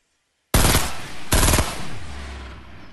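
Two sharp gunshot bursts in a video game, the first rattling like a short machine-gun volley and the second following about a second later, both loud and close, with a low rumbling tail afterward and no talking.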